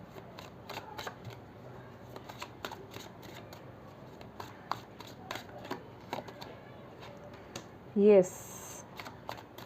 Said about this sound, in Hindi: थोड़े से और कार्ड्स निकालते हैं।